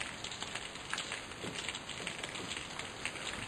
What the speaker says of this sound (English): And it's been raining all day.